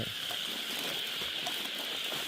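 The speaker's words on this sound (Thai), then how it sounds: "เสียงฝนตกใส่เบ็ดปุ๊บฝนตกเลย" Steady rain falls in a dense, even hiss with scattered patters of drops, continuous and close, with no voices.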